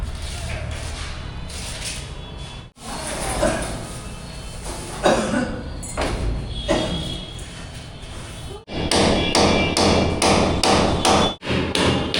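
Clips being hammered onto white insulated, taped AC pipes during a Voltas 2 ton air conditioner installation in a gym; a burst of sharp taps and thuds rings out, then a quick run of regular strikes near the end.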